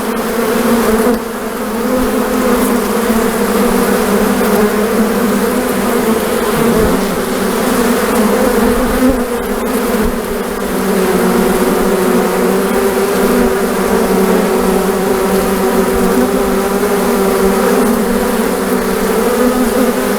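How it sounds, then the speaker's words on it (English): Honeybees humming steadily inside a closed hive, a dense, continuous drone that holds at an even level throughout with no other sounds. "what a happy hive sounds like."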